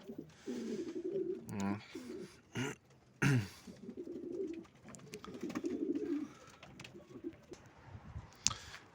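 Sport pigeons coo in low, throaty rolling phrases in a loft, several birds close by, with rustling and a few sharp knocks in the background.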